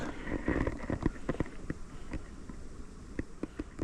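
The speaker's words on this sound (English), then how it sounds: "these bees are Norfolk bees in a garden ornament and they're angry" Angry Norfolk honey bees buzzing around a garden ornament, a close, uneven droning hum with a few sharper passes and small knocks.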